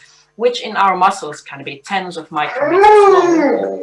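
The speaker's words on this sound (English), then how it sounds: "I'm sorry for the dog, we just have to ignore him." A dog howls in the background, with drawn-out rising and falling wails in a home setting during an online science conference talk, heard intermittently beneath a speaker's continuous lecture.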